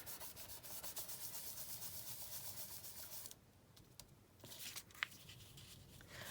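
An ink pad rubs across a paper bag in repeated close scratchy strokes, then pauses, and a few softer rubs and a small tap follow.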